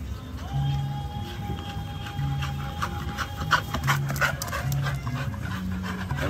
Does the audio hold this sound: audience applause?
no